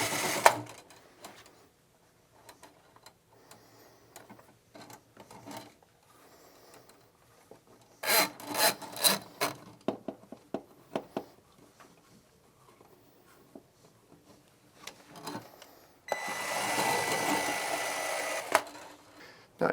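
A drill-driven canister drain cleaning auger spins its cable in bursts, with short whirring runs, clattering pulses and a louder sustained stretch near the end, heard close up without talk.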